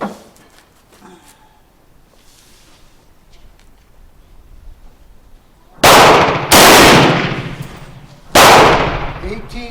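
Three loud, close rifle shots from a Romanian rifle firing reloaded 7.62x39 ammunition, sharp cracks in quick succession after several seconds of quiet outdoor ambience.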